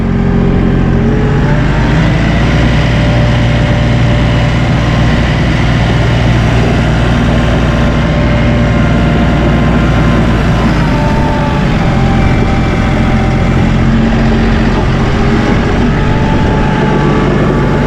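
A Massey Ferguson compact tractor engine drones steadily and loudly throughout in four-wheel drive, with a low rumbling tone and slight shifts in pitch as the machine keeps moving and turning.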